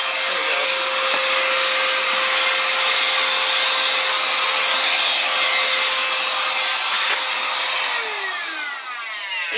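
A handheld vacuum cleaner runs steadily and loudly while cleaning a mat inside a micro camping pod, its broadband whine holding constant with a few shifts in pitch near the end and no talking.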